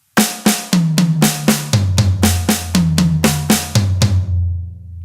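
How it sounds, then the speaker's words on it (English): Drum set warm-up striking pairs of hits moving between snare, high tom and low tom, about a dozen evenly spaced loud close strokes with ringing tom tones, no talk. "we're basically doing 2 in the snare, 2 in the high tom, 2 in the snare, 2 in the low tom"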